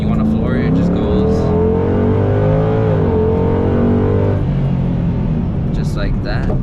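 A 2005–2009 Ford Mustang GT fitted with a JLT Series 3 cold air intake accelerates hard, its V8 rumble rising in pitch loud and close, with a voice speaking over the engine.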